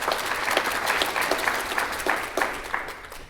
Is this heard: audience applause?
yes